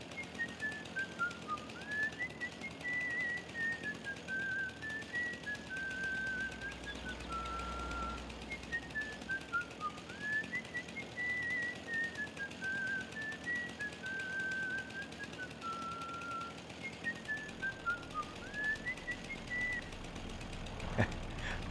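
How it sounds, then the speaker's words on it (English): A person whistles back at a bird, a long melodic tune of rising and falling phrases repeated over and over, close and clear above a quiet outdoor background, with no talking. "Let me whistle back."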